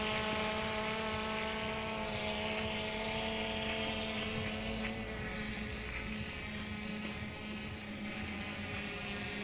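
FIMI X8 SE drone in flight: a steady, high, whining propeller buzz with strong tonal harmonics that holds evenly throughout at moderate distance, with no talk.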